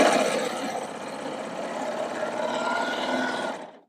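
A sewing machine stitches a 2-thread cover hem, a close, steady rapid whirring hum that runs for several seconds and cuts off at the end.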